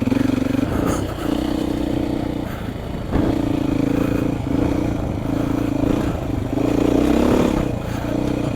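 A Beta motorcycle engine while riding, loud and close, a continuous buzzing drone that rises and dips with throttle changes and gear shifts, with some rattling clatter underneath and no talking.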